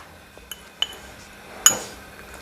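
A metal spoon clinks a few times against a pot while chaat masala and salt go into chicken haleem. Three sharp, bright taps stand out over a quiet background, the last one loudest.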